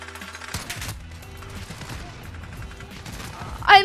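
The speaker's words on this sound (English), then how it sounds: "I'm literally shooting!" Marksman rifles in the Call of Duty Modern Warfare video game fire in a burst of sharp shots followed by a dense, lower rumble of chaotic gunfire, with a brief voice near the end.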